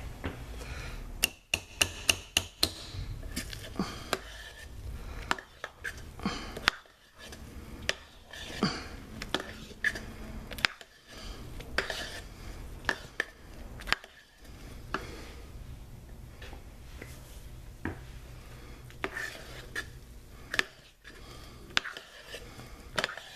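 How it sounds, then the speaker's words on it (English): Homemade soap mixture being stirred by hand, a steady stream of scraping and clinking from utensil against container, with sharp knocks and taps scattered throughout at close range and no talking. "so we got that stirred in well"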